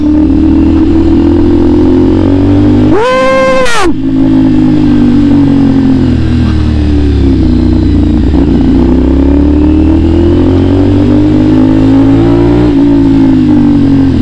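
Superbike engine revving hard while being ridden, loud and continuous with strong rising and falling pitch, one sharp high-pitched rev spike early on, with road and wind noise throughout.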